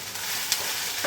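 A spoon stirs mung bean curry in a pan, a steady close scraping and bubbling hiss over about a second with no voices.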